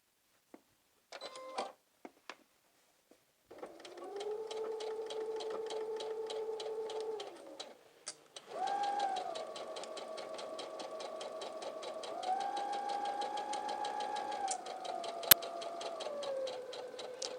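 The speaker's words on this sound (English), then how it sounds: "Then we'll go to the machine and sew a straight stitch around the curve." A sewing machine sews a straight stitch around the curve of an A-line skirt, running in two long steady stretches with a slight change in speed, close and moderately quiet, with a few clicks before it starts.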